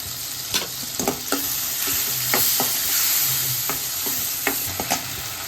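Onion paste fries loudly in a pan with cardamom, a bay leaf, cumin and turmeric for palak paneer, a close, continuous sizzle punctuated by irregular spatula scrapes and knocks.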